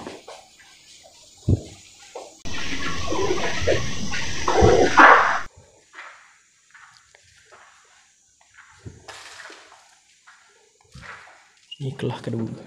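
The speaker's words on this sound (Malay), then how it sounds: "Kamu dengar bunyi macam air." Water seems to run inside a hotel room, a loud rushing burst that starts abruptly, holds for about three seconds and cuts off, framed by quieter clicks, thumps and room noise.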